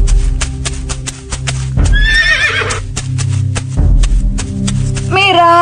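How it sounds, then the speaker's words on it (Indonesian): A horse-drawn carriage in a radio drama, with steady clip-clopping hooves and clear, loud neighs rising over them twice, close and continuous. "Kalau begitu kita pakai kereta kuda saja"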